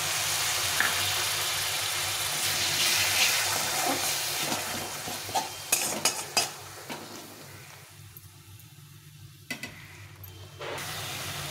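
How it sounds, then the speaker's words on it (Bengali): Whisked sour yogurt fries in a pan for a banana-flower kofta curry, a continuous close sizzle broken by bursts of scraping stirring strokes in the middle and near the end. "এই টক দইটা দিয়ে দিতে হবে। দিয়ে একটু করে কষাই দিই।"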